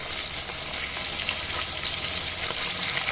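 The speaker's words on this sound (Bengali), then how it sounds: "কথা বলতে বলতে ইলিশ মাছের এক ভাজা হয়ে গেছে" Hilsa fish pieces fry in a pan, giving a dense, loud, unbroken sizzle with no pauses or voices.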